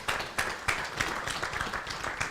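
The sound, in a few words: symposium audience applause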